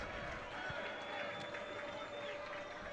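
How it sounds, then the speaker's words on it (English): A college football crowd at Otterbein versus Baldwin-Wallace rises in a steady, distant roar of cheering across the stadium, dense and continuous for a few seconds. "Crowd getting excited."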